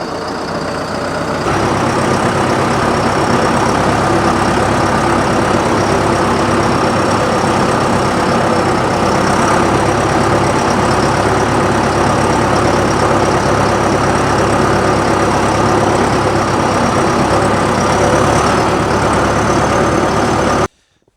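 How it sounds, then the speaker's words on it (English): A heavy diesel tractor engine idles steadily and loudly close by on a farm, a continuous low rumble that cuts off abruptly at the end. "I'll take this tractor back."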